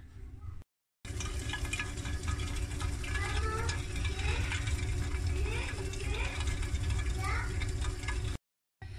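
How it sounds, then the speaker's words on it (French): An i-Companion XL food processor blends feta with egg at speed 6, giving a loud, steady, churning whir that runs for about eight seconds before cutting off abruptly. "Et donc je vais mixer une première fois. Donc j'ai mis vitesse 6 pendant 30 secondes."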